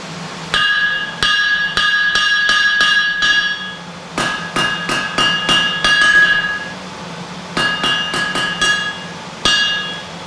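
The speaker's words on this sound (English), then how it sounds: "using a hardy, which is mounted on the anvil here, to sharpen off the end and make a square cut to the flange" A blacksmith hammers a heated metal rod on a hardy mounted on an anvil, ringing metallic strikes in quick bursts of several blows separated by short pauses, loud and close, with no speech.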